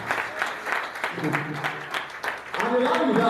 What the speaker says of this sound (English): welcome Honorable Dayo once again with unceasing applause